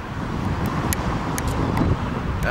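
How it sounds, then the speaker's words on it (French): Steady traffic from passing cars on a nearby road forms a continuous wash of noise, with wind buffeting the microphone and no one speaking. "Désolé pour le bruit des voitures,"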